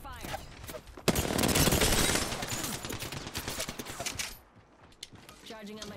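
Heavy gunfire in Apex Legends erupts in a loud, sustained burst of overlapping shots with sharp cracks, then thins out and fades, with a voice briefly heard beneath.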